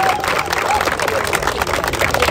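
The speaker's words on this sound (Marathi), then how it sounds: "जोरदार टाळ्या होऊ द्या" Steady crowd clapping fills the air for award winners at a village cricket premier league prize ceremony in Konkan, dense and continuous from start to end with a faint voice underneath.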